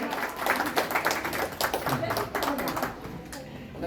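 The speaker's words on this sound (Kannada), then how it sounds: "ರೆಡಿ ಇದ್ರೆ ಚಪ್ಪಾಳೆ ತಟ್ಟೋದ್ರ ಮುಖಾಂತರ ನಿಮ್ಮ ಒಪ್ಪಿಗೆಯನ್ನು ಸೂಚಿಸಬೇಕು" A quiz audience claps together in a burst of quick, scattered hand claps that continues for several seconds, loud and close, mixed with voices talking over it.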